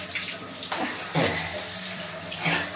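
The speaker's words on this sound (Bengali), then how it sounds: "আচ্ছা চলো একটু গরম পানি দিও, একটু ঠান্ডা পানি দিও।" Lukewarm water pours for a child's bath in winter, a close, continuous splashing stream into a tub or bucket with shifting gurgles as the flow changes.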